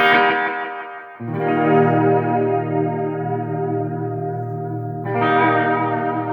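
Sustained guitar chords through Bo's Harmonic Trem/Delay pedal carry a chorus-like vibrato shimmer. A thick, wavering tone is struck anew twice, each chord ringing loud and full.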